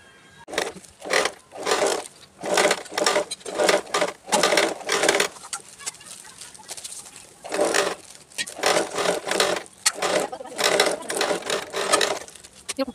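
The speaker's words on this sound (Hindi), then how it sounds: "इसकी स्टिच कर देंगे और उसी तरह से टॉप स्टिच भी करेंगे" A sewing machine stitches fabric for a chapati cover in repeated bursts of rapid, close mechanical chatter. Short pauses separate the runs.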